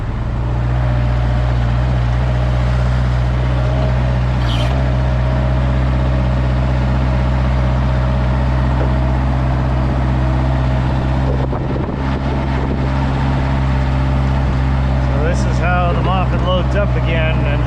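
A Moffett forklift engine runs steadily and loud at close range, its hydraulic pump working under load, with brief clanks and shifts in tone partway through.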